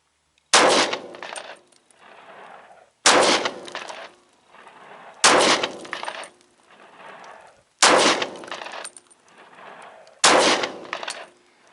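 A Glock 31 Gen4 .357 SIG pistol fires five handloaded 124-grain plated rounds over HS6 powder, loud sharp reports evenly spaced a couple of seconds apart, each followed by a short echoing decay.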